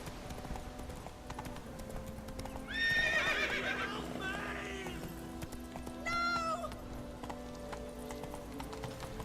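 Roach the horse in The Witcher 3 video game whinnies twice in clear bursts over a steady clip-clop of trotting hooves, with game ambience beneath.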